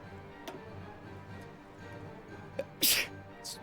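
A single sharp sneeze late in the stretch, rising over low background hum and faint ticking, with soft talk around it.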